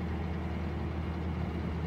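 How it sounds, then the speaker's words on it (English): Road traffic runs beside a canal where narrowboats sit on permanent moorings near Burnley, heard as a constant low rumble of passing vehicles and heavy engines. "they've got constant traffic noise the whole time"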